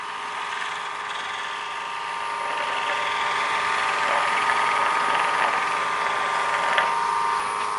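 A polishing machine spinning at about 2000 RPM while buffing microcrystalline wax to a shine gives a steady, even whirring hum with a faint mechanical tone, continuous and close, slowly swelling slightly in loudness.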